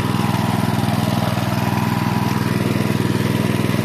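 A 5-horsepower Subaru E16 engine with a Mikuni carburetor runs on a Robin motor cultivator, a close, steady, rapid chugging drone with even pulsing and no break.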